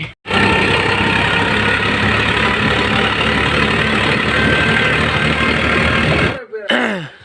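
A jeep engine runs loud and close as the vehicle is moved aside, a steady rumbling drone that holds for several seconds before cutting off.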